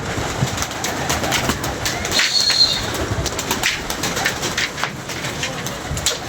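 Pigeons coo softly amid a constant hissy outdoor background, with brief rustling bursts of wing flapping.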